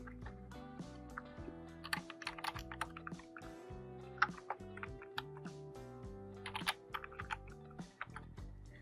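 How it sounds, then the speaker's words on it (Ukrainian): Close, quiet keystrokes patter on a computer keyboard in an uneven, continuous stream of individual clicks, with no voice present. "потрібно натиснути комбінацію клавіш Ctrl-пробіл"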